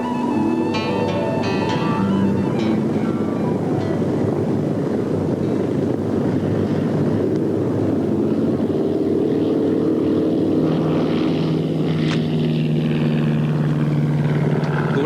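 A small propeller aircraft lands on the tiny island airstrip of Tromelin; a loud engine drone with heavy wind buffeting fills the whole stretch, changing pitch as it comes in, with no talk.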